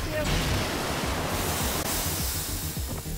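A waterfall roars in the Minecraft Story Mode video game as a loud, dense, continuous rush of falling water that fills the short clip.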